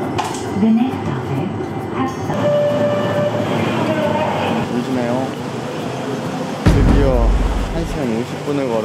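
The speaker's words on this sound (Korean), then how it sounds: "처음으로 의정부 경전철이란 걸 타봅니다." The Uijeongbu light rail train runs steadily, heard from inside the carriage as a constant rumble and whir with a brief louder low thump partway through; faint voices sit under the running noise.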